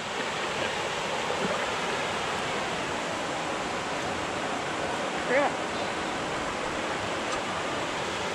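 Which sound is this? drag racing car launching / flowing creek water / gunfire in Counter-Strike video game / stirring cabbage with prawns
flowing creek water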